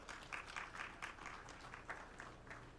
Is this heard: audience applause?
yes